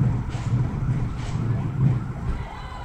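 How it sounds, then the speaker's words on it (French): An ambulance siren wails in repeated rising-and-falling cycles as the vehicle departs, moderately loud and somewhat distant, heard alone over steady background noise. "Une ambulance qui part là-bas"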